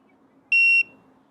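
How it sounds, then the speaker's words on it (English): A single clear electronic beep from a tire pressure monitor, steady and high-pitched, lasting about a third of a second over a quiet background. "Hold down set and you'll hear a beep."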